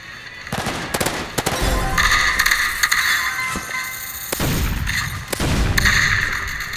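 Shotgun blasts in a hyper shooter video game, several booming shots at irregular intervals over busy game noise, loud and close-sounding.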